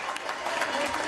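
Residents in a Paris neighbourhood applaud medical staff from their windows, a brief wash of dense, distant clapping with faint voices mixed in.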